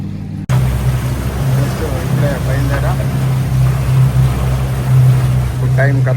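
A private motorboat engine on a trip to Failaka Island, Kuwait, drones steadily and loud with a low hum. Wind and water noise run underneath, and voices talk over it.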